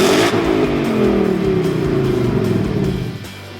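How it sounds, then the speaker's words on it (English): A 2020 Ford Mustang GT, upgraded at a Roush Performance dealership, revs loudly and close up, its V8 rising and then falling back over a few seconds before settling to a lower rumble. "Today I wanted to go over my customer and good friend Melvin's 2020 Mustang GT."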